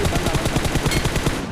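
Rapid automatic gunfire in a battle royale video game, a dense run of about a dozen evenly spaced loud shots with no talking.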